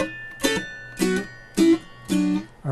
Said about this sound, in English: Staccato notes are short, clipped notes. They sound like this.